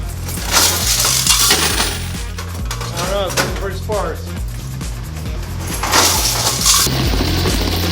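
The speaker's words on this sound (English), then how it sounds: "Let's drop some quarters." Quarters drop into coin slots of laundromat machines, landing as a run of metallic clinks and rattles amid a busy room with voices talking nearby.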